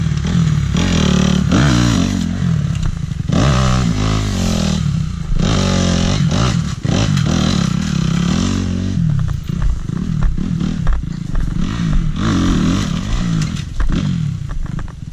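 Enduro motorcycle riding laps on a private endurocross practice track, its engine loud and close throughout, revving and bogging with rough clatter and scraping as the bike works over obstacles.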